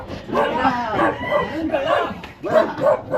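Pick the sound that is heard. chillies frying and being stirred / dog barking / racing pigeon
dog barking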